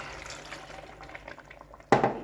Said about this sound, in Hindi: बस ये चीज़ें ऐड करके तो हाफ कप पानी ऐड कर दूँगी